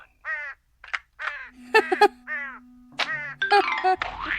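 Bird sound effect in an old-time radio drama: a series of short harsh caws like a crow, interleaved with a sustained low tone and metallic ding-like hits, ending in a noisy clatter.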